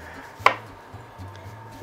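A knife slices through a cucumber on a cutting board with a single crisp chop, then a quiet low hum of the kitchen and faint handling noises.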